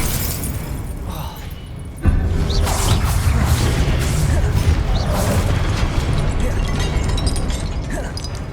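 Confringo fire spell blasts going off in the Hogwarts Legacy video game, a sudden loud explosion erupting after a quieter stretch and followed by a sustained crackling, rumbling burst of combat noise.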